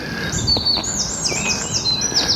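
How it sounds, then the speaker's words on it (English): A robin chirps near bird feeders at a lakeside walk in Bathpool, Kidsgrove, giving a string of high, clear twittering notes at close range over a steady outdoor hiss, with no talking. "We've got some bird feeders here, little robin who's not going to stay still for us."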